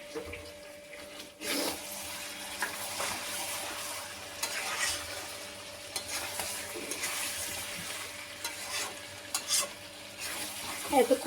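Chicken curry with potatoes being stirred and sautéed in a pan, a steady sizzle with scraping spoon strokes and occasional clinks, no voices.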